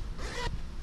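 A short zipper pull on a Coleman Weathermaster tent door, one quick faint zip lasting under a second, close by and alone.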